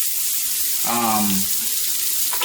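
Onion and peppers sizzling in a hot pan for Caribbean corned beef hash, a loud, steady frying hiss close by, with a brief voice-like murmur partway through.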